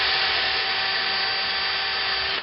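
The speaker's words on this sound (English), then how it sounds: "This is the third clearance drill." A power drill runs steadily while boring a clearance hole at slow speed in a Kalamazoo amp cabinet, making a continuous loud whirring hum that holds for over two seconds and then cuts off.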